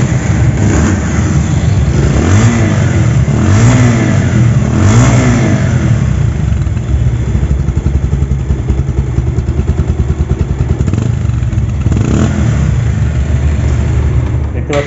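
A showroom-condition Bajaj Pulsar double-disc motorcycle engine is revved up and down several times in close succession, each loud rise and fall clearly audible, then settles into a steady, throbbing run close by.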